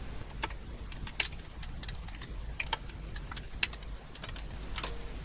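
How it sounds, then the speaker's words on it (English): An ASR33 teletype being rotated gives a faint, irregular series of sharp solenoid clicks over a low mechanical hum, some clicks louder than others. "I'm starting to rotate the machine. We'll hear the solenoid clicking in and out"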